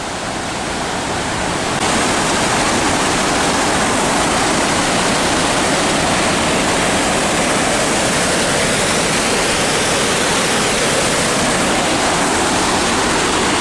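Water pours over a dam in Cachi, Costa Rica, a loud, unbroken roaring rush that swells slightly in the first seconds and then holds steady.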